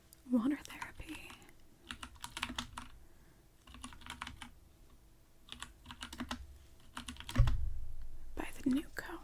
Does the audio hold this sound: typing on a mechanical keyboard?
yes